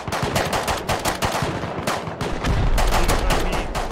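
Rapid automatic gunfire in the video game Rust, with dense bursts of sharp shots crackling back to back and growing heavier and more continuous near the end.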